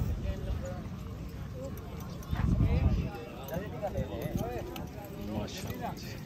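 Racing mares gallop at a horse race in Pakistan, with hoofbeats rumbling steadily beneath loud crowd noise and an announcer's voice, swelling briefly in the middle.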